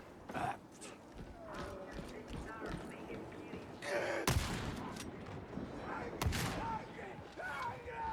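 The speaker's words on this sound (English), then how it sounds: "Oh, is that the new shotgun?" A new shotgun firing in Warhammer 40k: Darktide: two loud, sharp blasts a couple of seconds apart over busy gameplay noise and footsteps, with voices talking in the background.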